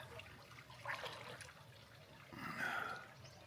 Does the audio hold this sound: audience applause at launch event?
no